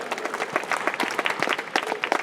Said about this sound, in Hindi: Please give a huge round of applause, जोरदार तालियों के साथ।